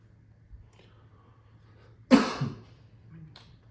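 A single short cough rings out close by in an otherwise quiet room with a faint low hum.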